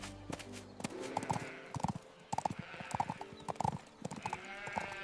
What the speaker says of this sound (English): When the king's carriage rolled by